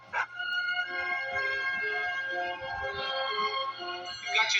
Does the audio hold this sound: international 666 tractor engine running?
no